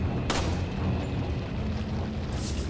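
A single loud gunshot in Resident Evil 4 booms early, then a heavy rumbling game background continues, with a faint sharp ping near the end.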